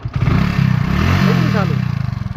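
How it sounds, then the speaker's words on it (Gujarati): Motorcycle running after being started on a rainy day, loud close engine with a rapid pulsing idle and a brief rev, with a person talking over it. "બાઇક કમ્પ્લીટ ચાલુ કરી દીધું છે જો"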